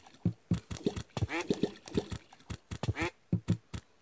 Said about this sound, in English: Quack. You can quack.